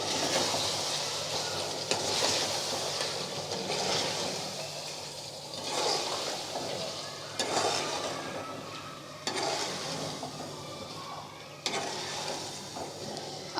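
Chicken pieces with chilli and salt are stirred in a hot karahi, a steady sizzle under repeated scraping strokes of a spoon against the pan, with no talk.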